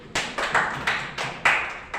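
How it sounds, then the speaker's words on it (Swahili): Audience at a teachers' work ethics moderation session at County Girls High School, Nairobi, clapping hands in a quick, rhythmic burst of about eight sharp claps, fairly close and unaccompanied by talk. "Apigiwe makofi tena"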